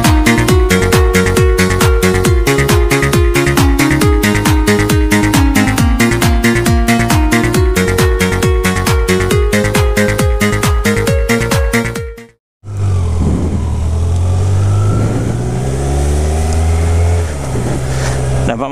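A cold Kawasaki Z900 motorcycle engine warming up, a steady low idling rumble with gentle swells that fills the final several seconds after an abrupt cut from a rhythmic, music-like passage.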